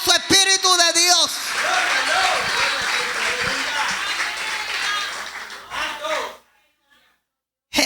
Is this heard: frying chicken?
no